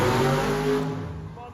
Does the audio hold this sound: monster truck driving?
yes